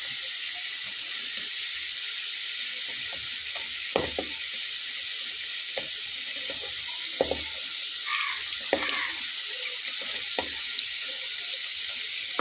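Potato snacks frying in hot oil, a steady close sizzle that runs the whole time with a few soft knocks as pieces are turned, and no talking.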